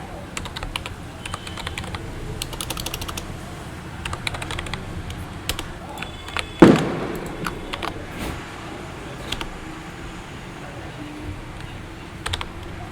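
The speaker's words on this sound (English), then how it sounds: "We'll type the password." Keys clack on a computer keyboard as a password is typed in a terminal session, a steady patter of close, light keystrokes with a brief louder tap near the middle and no talking.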